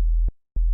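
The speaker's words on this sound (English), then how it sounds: "this orange one right here is our straight up just regular sine wave" A plain, low synthesized sine tone from Ableton sounds in two short bursts separated by a brief silence, steady and fairly loud with no other sound.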